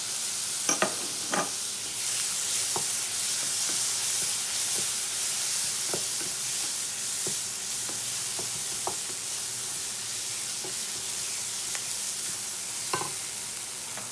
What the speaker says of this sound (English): Now I'm going to add quarter cup of chopped tomato.